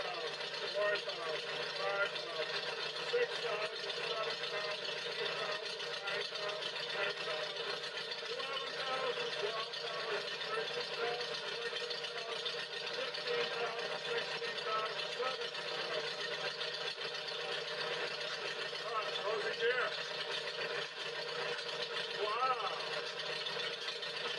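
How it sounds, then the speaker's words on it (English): A Farmall Super C tractor engine runs steadily at idle, a continuous even mechanical hum throughout, with someone talking over it. "put my tractor in gear without grinding it, without shutting it off and starting it back up"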